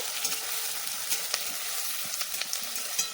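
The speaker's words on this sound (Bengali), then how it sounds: "কড়াইয়ে দিয়ে দিচ্ছি তেল তেলে দিয়ে দিচ্ছি জিরে দিচ্ছি কেটে রাখা পেঁয়াজ পেঁয়াজটাকে একটু নেড়ে চেড়ে নেব" Chopped onions and cumin seeds fry in hot oil in a wok for a samosa filling, giving a steady bright sizzle with occasional sharp crackles and stirring clicks, no voices.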